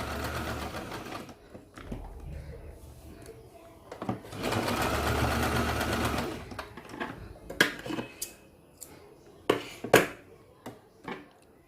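A sewing machine stitches newborn baby pants in short bursts, with one sustained run in the middle followed by clicks and handling of fabric, all close and fairly quiet.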